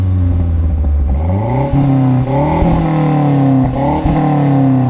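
A 2011 Mazda Speed3 turbo with a resonator-delete exhaust revs up and back down several times, loud and close, with a throaty exhaust tone that rises and falls between steady idle-like stretches. No one talks.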